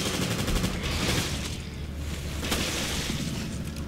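Gunfire in the Resident Evil: Revelations video game, a dense continuous volley of shots over a loud rushing, watery background, steady throughout with no talking.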